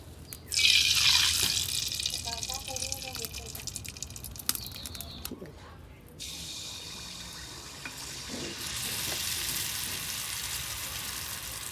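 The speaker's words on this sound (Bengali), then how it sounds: "তো প্রথম পিঠা দেওয়া হলো কড়াইতে।" Oil pitha dropped into hot oil in a karahi on a clay stove, a loud hiss bursting in early then settling into a softer sizzle that swells again toward the end.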